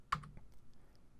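A computer keyboard is typed on while someone enters a hex colour code in Photoshop, giving a handful of quiet, closely spaced keystroke clicks, the first one sharpest, in an otherwise still room.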